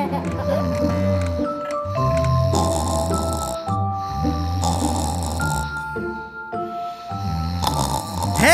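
A child imitates snoring with the voice: a string of loud, close, exaggerated snore sounds, each drawn out, repeating in a steady rhythm with short breaks between them.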